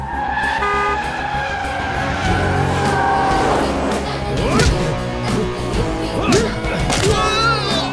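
A car speeds along with engine roar and tire squeal, skidding through turns in a fast police-station dash; dense, loud and continuous throughout, with brief voices mixed in.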